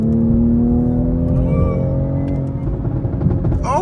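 A Toyota Supra drives and accelerates from the cabin, its engine note a steady, loud drone that rises in pitch with faint whirring on top.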